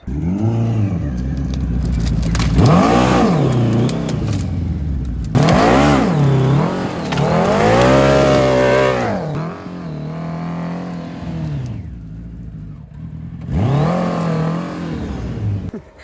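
Hayabusa-engined mini trophy truck crawling over logs, its engine revving up and down in repeated surges, loud and close with brief dips between pulls.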